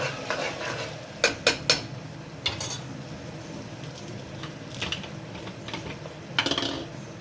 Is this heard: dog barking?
no